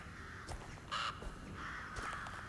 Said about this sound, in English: I like them crows. There's more crows.